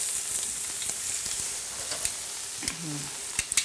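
Steady crackling sizzle of beef steak searing on a hot griddle, continuous and close, with a few faint knocks and scrapes near the end.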